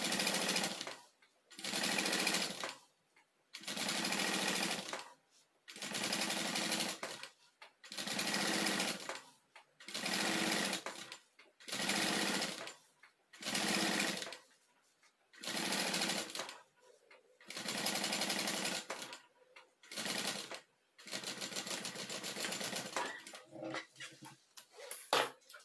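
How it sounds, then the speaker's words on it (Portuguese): A sewing machine stitches a closing seam using stitch number 3, running in about a dozen short, even bursts separated by brief pauses, close and clear with no voices. "Vou fazer aqui a costura. Vou utilizar o ponto número 3 também"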